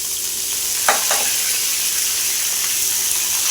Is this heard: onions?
yes